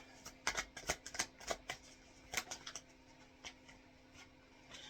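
Tarot cards being shuffled by hand, a run of crisp riffling bursts and flicks in uneven rhythm with short pauses, close and fairly quiet, with no talking.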